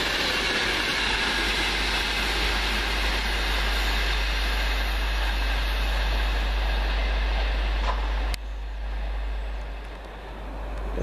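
A passenger train runs steadily near Warrington, on the route between Manchester Piccadilly and London Euston, giving a loud, continuous rumble with a deep low drone that drops away abruptly near the end.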